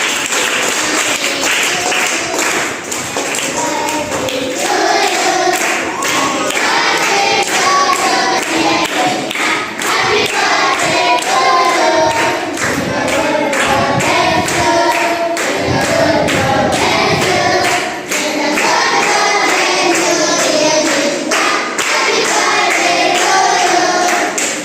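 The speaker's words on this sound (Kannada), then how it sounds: "ಚಪ್ಪಾಳೆ ತಟ್ಟಿ" Hands clapping at a children's birthday celebration in a hostel: steady rhythmic group clapping, loud and continuous, with children singing along over it.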